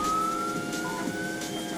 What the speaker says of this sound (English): It's also going to be very annoying every time you hear the sirens